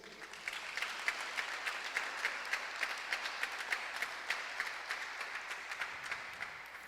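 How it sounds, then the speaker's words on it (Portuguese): A church congregation applauds during a worship service: steady, full clapping from many hands with a faintly rhythmic pulse, sustained throughout and moderately distant. "Você pode aplaudir o nome de Jesus?"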